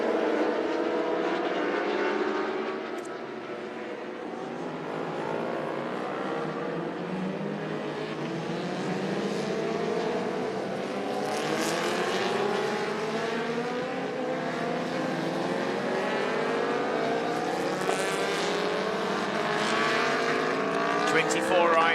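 Superstock race motorcycles in the Pirelli MSC R3 class lap Sepang International Circuit on a sighting lap, engines droning and rising in overlapping sweeps from a distance while a commentator talks over them.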